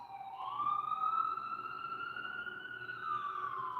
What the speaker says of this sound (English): Ambulance. Ambulance.